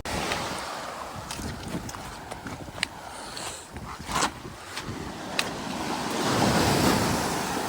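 Ocean waves washing onto Skinner Beach on the remote north coast near Cape Scott, heard as continuous broad surf rumble with gusting wind buffeting the microphone, swelling louder toward the end, no talk.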